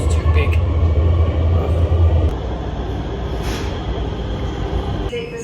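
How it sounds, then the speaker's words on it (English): An airport people-mover train rumbles loudly at first, then settles into a steady hum of rolling rail noise inside the car, with a brief high squeal of wheels near the end. "now to get to my gate I'm actually gonna take a train"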